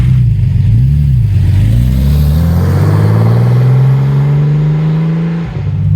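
A Porsche 930 Slantnose Turbo flat-six pulls away loud and close, its revs rising steadily in one long smooth climb before easing off near the end, with no talk over it.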